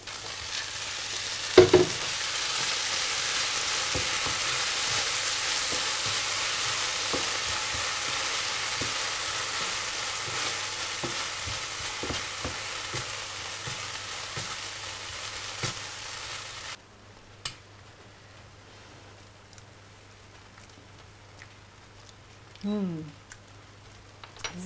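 Steady sizzling of food frying in a pan, with occasional stirring clatter, ending abruptly and leaving a quieter room with faint movement.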